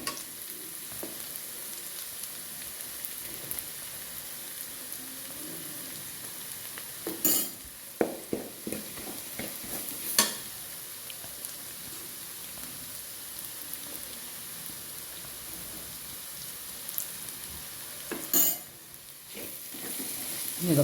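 Chicken roast fries with chilli powder and coriander powder as a soft, continuous sizzle runs throughout, broken by a few sharper scrapes and clinks of a spoon stirring in the pan.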